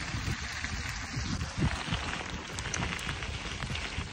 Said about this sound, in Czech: Krásně prší.